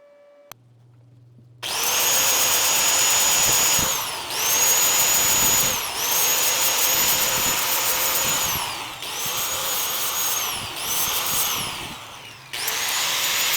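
A power tool grinds in repeated bursts of a few seconds each, loud and close, filing bumps off a metal part during a disc brake upgrade on a 1951 Chevy; no talk.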